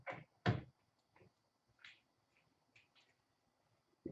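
A door pushed shut at night in a quiet room near an outdoor doorway, a couple of soft knocks and a firmer thud with faint rattles, then stillness.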